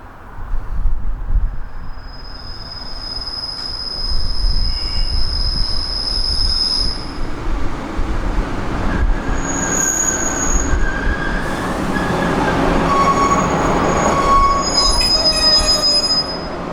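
A train speeds non-stop through a station, loud and steady, its wheels letting out long high-pitched squeals over a continuous rumble of rail noise.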